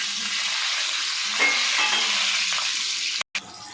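Tempering of urad dal, cumin, mustard seeds and green chillies crackling in hot oil, a loud, dense, steady sizzle close up with a few stirring clatters and a brief cut near the end.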